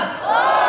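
A crowd of job seekers at a job fair in Amravati answers with a short, loud collective shout, close and forceful.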